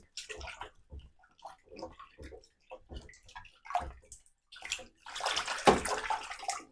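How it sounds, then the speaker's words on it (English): Cold water runs and splashes while a Pinter 3 brewing vessel is rinsed, coming in intermittent bursts of sloshing with a heavier gush near the end, close by. "Rinse it off with cold water."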